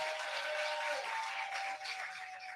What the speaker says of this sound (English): a warm round of applause for Prime Minister, the Most Honorable Andrew Holness